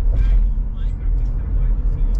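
Light Delhi road traffic heard from inside a Tata Harrier on the road, a low steady rumble of passing cars and buses with engine drone.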